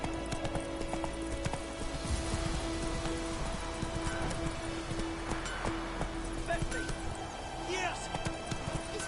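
Rain falling in The Witcher 3, a steady patter mixed with horse hoof clip-clops and other game sounds, with a voice speaking over parts of it.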